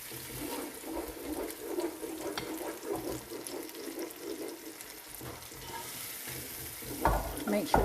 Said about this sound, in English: now I'm going to give it a good mix